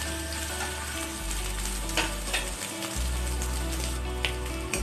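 Potatoes fry gently in a pan, with a low steady sizzle and occasional scrapes and taps from stirring. Close and moderately quiet, with no speech.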